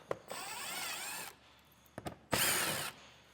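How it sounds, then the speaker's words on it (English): A power tool with a 7mm socket backs out mud flap screws on a 2024 Cadillac Escalade, giving two loud close whirring runs separated by quieter clicks and handling sounds. "Now we'll take our 7mm socket down here below, and we're going to take the 3 screws from each of our mud flaps."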